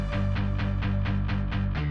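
Bass guitar strikes in a progressive house remix, cut back to a mid-range texture: a steady run of evenly spaced, sustained plucked notes with clear attacks, repeating about every quarter second with no talking.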